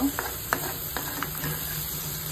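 Tomatoes frying in a pan for sukat give a low, even sizzle with several light taps and stirs of a spoon, close by and moderately quiet.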